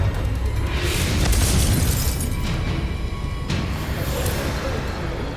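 A Confringo blasting spell exploding in the Hogwarts Legacy video game, with deep booming blasts and bright bursts over a rumbling battle mix, a big hit near the start and further bursts following.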